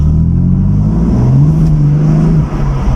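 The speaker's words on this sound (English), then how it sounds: "The wheels will spin like hell when I put my foot down" A BMW M4 F82 coupe with a manual gearbox accelerates hard in sport plus mode as its rear wheels spin, loud close engine revving with a rising tone that climbs, holds, then dips briefly near the end.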